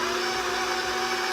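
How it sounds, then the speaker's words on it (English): Electric mixer running steadily while eggs are added to gluten-free pumpkin streusel muffin batter, a close, continuous motor whir with no pauses. "So we're going to turn our mixer on and add our eggs in."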